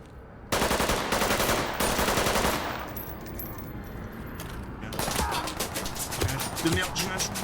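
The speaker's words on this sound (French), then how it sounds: "Je me fais tirer dessus" Gunfire in the video game Ready or Not, rapid automatic bursts at first, then scattered shots and game noise continuing more quietly.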